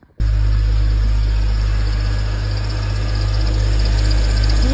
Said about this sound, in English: So let's just turn it on and see how well it spins.